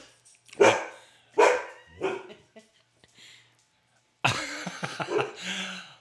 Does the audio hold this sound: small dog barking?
yes